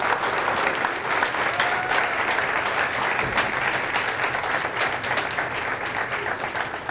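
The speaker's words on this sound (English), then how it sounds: "Can we have a round of applause for Chef Stanley?" An audience gives a chef a round of applause at an interview event: loud, sustained clapping from many hands, fairly close and steady throughout before easing slightly toward the end.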